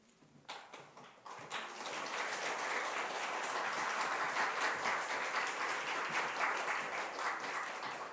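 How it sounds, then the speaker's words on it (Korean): A church congregation breaks into applause at a worship service, starting with a few scattered claps and swelling into steady, moderately distant clapping that carries on to the end. "이렇게 박수까지 치면서 환영해 주셔서 감사합니다."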